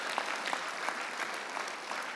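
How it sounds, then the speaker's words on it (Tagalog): A church congregation claps in steady, moderately loud applause that lasts throughout the short clip. "Lakasan nyo yung palakpak nyo kung may naintindihan ko."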